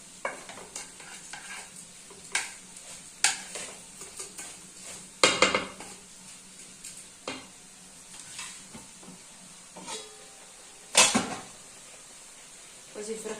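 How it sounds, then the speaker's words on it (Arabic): Rice sautéing in a pan on the stove gives a soft sizzle, broken by repeated scrapes and clinks of a spoon against the pan, close by and moderately quiet. "انا لسه بشوح في الرز، ومش عايزه احط الميه دلوقتي"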